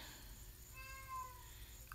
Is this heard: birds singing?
no